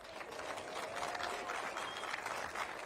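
A crowd applauds at the women's doubles final of the 2024 APP Punta Gorda Open pickleball tournament in Florida, a dense, even patter of clapping lasting a few seconds.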